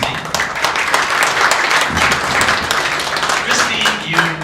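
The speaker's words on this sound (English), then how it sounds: "round of applause for Christy." Audience applause for inductee Christy Kowal at the 2010 National Polish American Sports Hall of Fame ceremony, a steady, dense wash of clapping that fills the room for several seconds.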